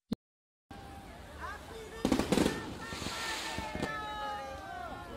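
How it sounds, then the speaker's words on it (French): Fireworks over a French Caribbean beach at New Year's midnight: sharp bursts and crackles around the middle of the clip, with a steady wash of surf or crowd noise and some faint voices beneath. "Les deux régions célèbrent avec des feux d'artifice impressionnants à minuit"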